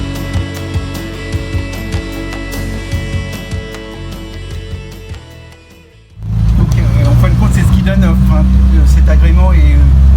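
A 1972 Renault Estafette van driving along, its engine hum steady at first, then swelling sharply louder partway through as the van picks up speed, with the rumble continuing up close to the end.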